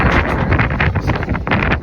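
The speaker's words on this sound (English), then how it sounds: "It's windy." Loud, steady wind buffeting the microphone outdoors beside a pickup truck set up for non-CDL hotshot hauling, with continuous broadband rumble and gusty surges throughout and no talking.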